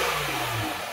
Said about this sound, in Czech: Při vytočení motoru se odpředu skrze výfuk do koncových tlumičů Corsa prožene řev skutečné bestie.